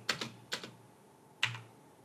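Three short clusters of crisp keystrokes on a computer keyboard, typing code into Notepad, each burst a quick double or triple tap separated by brief pauses, close and clear in a quiet room with no talking.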